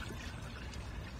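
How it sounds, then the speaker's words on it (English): Vodka pours into a jar for an alcohol extraction of black walnut hulls, a faint, continuous liquid trickle lasting about a second with no speech. "I'm actually going to pour about a third."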